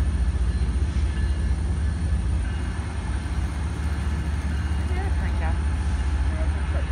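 A CSX autorack freight train rolls past close by in a constant loud rumble with faint wheel squeal, while people talk over it.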